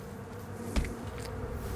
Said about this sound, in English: Oh god, the bee swarm.